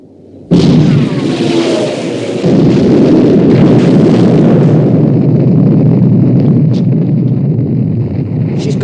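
The main guns of the battleship Bismarck firing in a naval battle: a sudden loud blast, then a sustained roaring wall of gunfire and shell explosions that stays close and intense throughout.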